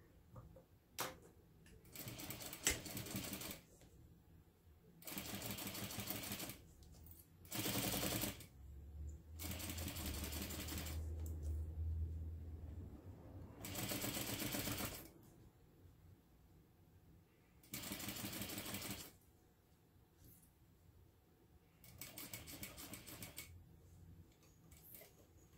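A sewing machine runs in short bursts of rapid stitching, separated by quiet pauses, close and clear.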